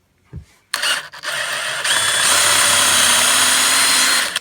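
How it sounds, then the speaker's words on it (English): A power drill whirs up after a brief knock, running loud and steady at high speed for several seconds while boring a hole with the bit held vertically, before stopping. "speed it up with another drill bit in there"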